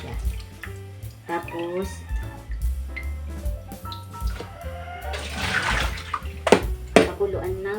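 Running water from a tap rinses leftover spaghetti noodles in a home kitchen, splashing unevenly at close range while someone talks over it in Filipino.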